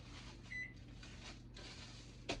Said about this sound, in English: That's my microwave going off.